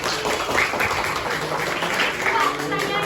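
Applause in a classroom during a teaching session: a steady, dense clatter of many hands clapping at close range for a few seconds, with voices mixed in underneath.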